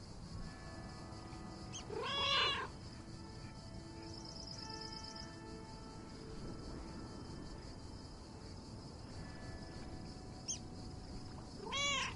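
Cat meowing in the video game Lake, two separate meows about ten seconds apart over a steady bed of chirping crickets and outdoor ambience.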